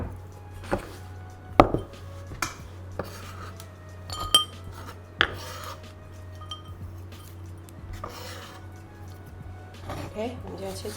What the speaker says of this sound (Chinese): 我们就要切这个韭菜